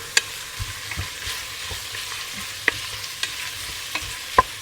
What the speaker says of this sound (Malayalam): നമ്മുടെ തേങ്ങ വറുത്തെടുക്കുവാണ്